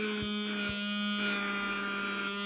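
A small handheld vacuum gadget runs in suction mode, producing a thin, steady electric buzz and hum with a couple of low thumps near the start.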